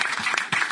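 Audience at the Longueuil Comique comedy show applauding the crew, a dense steady wash of clapping with slight surges, close and fairly loud throughout.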